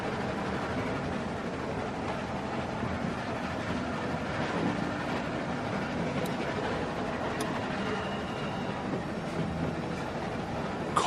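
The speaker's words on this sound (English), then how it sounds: "Stop the train." A train rumbles steadily along rails in The Walking Dead game, a continuous broad roar with faint clicks and rattles that stays even and close throughout.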